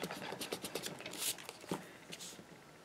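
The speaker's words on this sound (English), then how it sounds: "let's see if I can erase that nose" An eraser rubs over a pencil drawing in quick, scratchy back-and-forth strokes, close up and fairly quiet, with several short bursts of friction and a brief louder scrub partway through.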